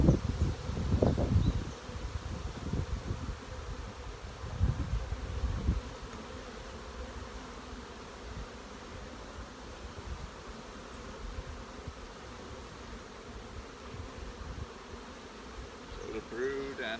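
Honey bees buzzing around an open hive in a working apiary during a honey flow, a steady faint hum throughout with louder rustling handling noises and a brief murmur of voices near the start.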